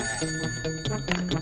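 A telephone rings in a home in a comedy scene, a rapid repeated bell-like trill that pulses in short bursts, fairly loud and close, with no talking.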